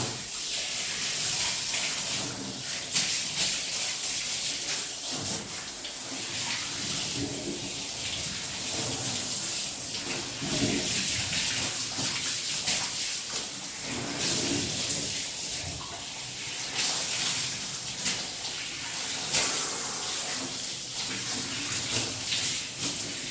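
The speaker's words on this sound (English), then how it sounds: "Okay, now I'll just rinse her off." A steady spray of water rinses a dog being washed at home in a bath, running as a continuous hiss and splash with small shifts in flow and no voices.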